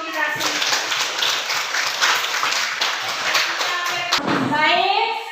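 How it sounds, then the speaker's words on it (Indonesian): Schoolchildren in a classroom clap together as a group discussion ends, a busy patter of small hands mixed with children's voices and chatter throughout, ending in a brief louder burst. "Tepuk tangan dulu untuk kita semua."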